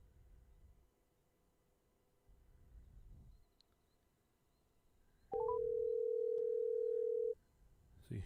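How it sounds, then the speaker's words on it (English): A single steady ringback tone on an outgoing phone call, placed during a webcast test at a stadium, holds for about two seconds at moderate loudness over faint room noise with no talking. "So you should hear ringing right now"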